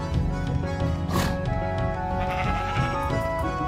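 Sheep bleating in Minecraft on a mountain ridge alongside pigs, a close wavering bleat standing out over a dense background of game music.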